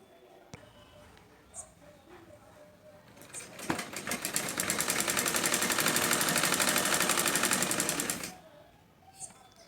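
A sewing machine stitches a blouse seam in one sustained rapid run of several seconds, starting and stopping with a few mechanical clicks and handling noises before and after, close and fairly loud.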